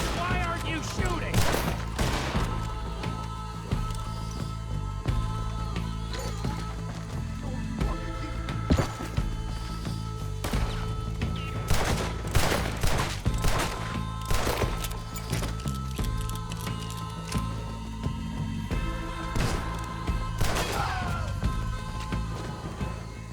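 Sporadic gunfire during a Red Dead Redemption 2 shootout, sharp shots and cracks scattered irregularly over a steady rumbling background, with voices speaking at times between the shots.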